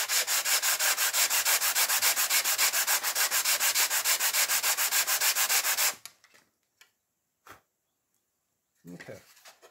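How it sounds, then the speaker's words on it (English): Steady rhythmic strokes of a worn sanding block rasping against a model airplane wing, loud and close, running for several seconds before stopping, followed by a few faint knocks and brief movement sounds. "I need to put some new sandpaper on my sanding block"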